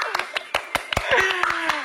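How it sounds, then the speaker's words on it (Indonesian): Hand clapping from a few people on an Indonesian quiz segment, a loose run of sharp separate claps over about two seconds, with a voice speaking over the second half. "Tepuk tangan dulu dong"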